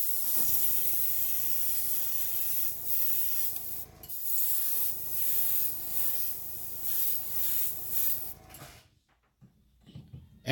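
Airbrush spraying pearl white and hot pink paint onto a 1.5 square bill lure, a soft continuous hiss in repeated bursts with brief pauses, ending in near silence.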